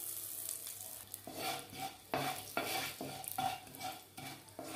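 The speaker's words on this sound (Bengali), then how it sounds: "এই যে তেলটা আমাদের গরম হয়ে গেছে, এরপর ওপর থেকে মৌরিটা ছড়িয়ে দেওয়া হলো।" Fennel seeds and asafoetida sizzling in hot oil while being stirred, soft crackling sizzle broken by a series of spoon strokes against the pan, fairly quiet and close.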